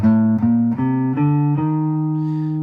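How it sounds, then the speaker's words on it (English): A rising minor scale played note by note, each sustained tone changing step by step at a steady pace, clear and close with no talking. "So the first 2 lines of the minor scale sound like this."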